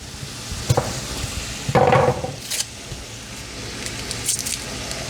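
Butter melts into a pan of browned sausage with a soft, steady sizzle and occasional stirring scrapes, close by and moderately loud, with a brief louder burst of frying partway through.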